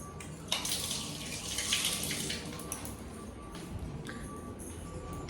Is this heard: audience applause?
no